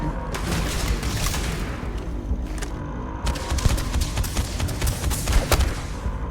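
Rapid gunfire from the video game Starfield, dense bursts of loud shots and booming impacts that crowd together throughout, easing briefly in the middle before resuming.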